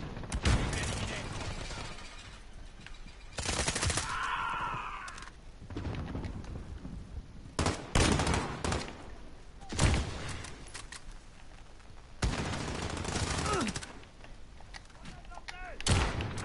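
Pump-action shotgun firing slug rounds in a Call of Duty match, a handful of loud, widely spaced blasts spread across the clip, with other game sounds and voices in the gaps.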